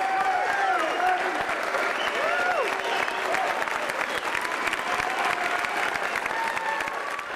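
A crowd rises in a standing ovation for chess champion Garry Kasparov after his match against the IBM machine, with dense, sustained applause and cheering that holds steady and loud throughout, with voices faintly mixed in.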